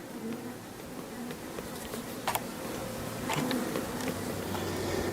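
Honeybees buzz in a low, steady drone around a queen marked with a bright paint dot, with a few brief sharper ticks partway through and no speech.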